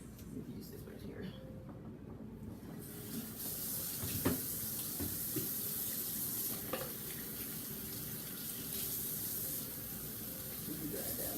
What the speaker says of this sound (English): Let me wash my hands so we can make sure.